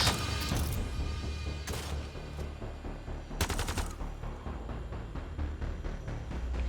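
Gunfire from the Mass Effect: Andromeda video game: several loud, sharp shots burst out at uneven intervals amid busy combat noise and rumbling effects.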